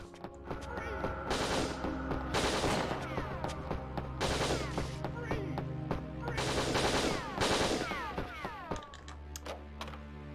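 Rapid bursts of turret gunfire in the video game Winback: Covert Operations, repeated volleys of loud automatic shots over a steady low game drone and music, with no talk.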